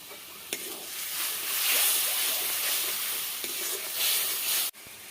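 Masala spices fry in oil in a pan for a rui fish curry, giving a continuous medium-loud sizzle that swells and eases with stirring, plus a couple of sharp scrapes.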